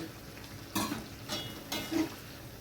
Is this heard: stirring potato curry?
yes